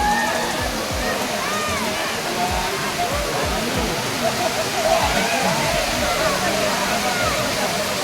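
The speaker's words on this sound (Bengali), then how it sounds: "এই হলো ফাইনাল লুক ওয়াটারফলসে। ওই মাথা থেকে জল নামছে।" Dudhsagar waterfall in Goa roars in a steady, dense rush of falling water, close and continuous, with faint voices talking underneath.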